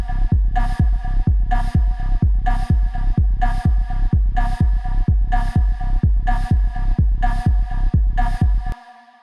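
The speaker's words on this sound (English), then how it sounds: "this really cool kind of vocal background effect, but it almost sounds a bit like a synth" Synth-like vocal background effect in a Berghain-style techno track pulses over a thumping kick and bass, a steady four-on-the-floor rhythm of sustained tonal stabs that is loud, close and repetitive, cutting off near the end.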